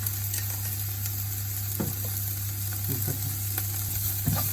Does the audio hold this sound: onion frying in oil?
yes